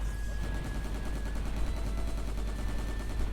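Continuous rapid gunfire in the online shooter GunZ: The Last Duel, a dense unbroken rattle of shots throughout, loud and close with a faint tonal game sound above it.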